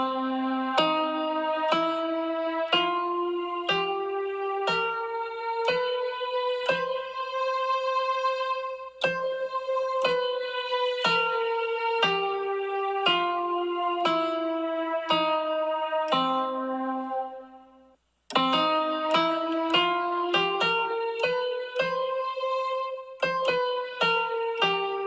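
A Carnatic scale in pure just-intonation tuning sounds as a bright, echoing instrument plucking single notes one after another, rising and then descending, with a brief gap before the notes resume.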